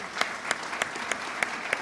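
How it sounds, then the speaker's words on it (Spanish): Audience applause welcoming a guest, a soft, steady patter of many hands clapping with a few sharper claps standing out at regular intervals, brief and moderately distant. "la recibimos con un aplauso"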